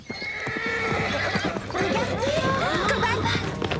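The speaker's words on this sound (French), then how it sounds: "Ce n'est pas le cheval de Véronica?" A horse whinnies loudly and nearby while hooves clip-clop on the ground, with faint background chatter, in the animated series Grand Galop.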